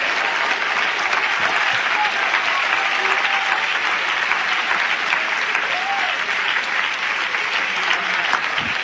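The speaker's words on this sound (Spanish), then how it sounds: "Demos un aplauso al Señor." Church congregation applauding together during a worship service, a sustained, even wash of clapping from many hands lasting the full stretch, fairly close and loud.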